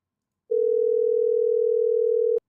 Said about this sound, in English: Can y'all hear the ringing?